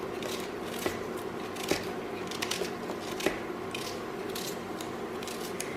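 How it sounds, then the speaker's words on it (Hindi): A knife thinly slices an onion on a wooden chopping board, giving light, irregular crisp cuts and taps at close range in a quiet kitchen. "एक ऑनियन को ऐसे पतला पतला इसमें काट दे।"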